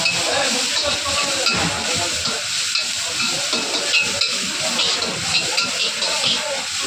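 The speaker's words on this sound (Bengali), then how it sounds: "আমাদের চাউমিন রান্না চলছে" Chow mein frying at a Kolkata street food stall on Dacres Lane, a constant loud sizzle and hiss with scraping stir-fry clatter from the pan, busy street noise behind.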